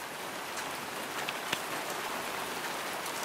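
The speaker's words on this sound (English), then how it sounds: "now the rain's gonna come down" Steady rain falls and patters on surfaces during an Arizona storm, a dense even hiss of drops that stays constant throughout with one brief sharper tap near the middle.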